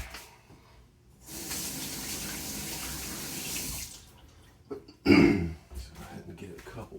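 A faucet runs for a few seconds with a steady hiss of water, stops, then a throat clear or cough and some brief clattering follow.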